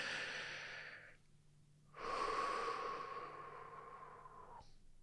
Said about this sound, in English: And take a nice big deep breath.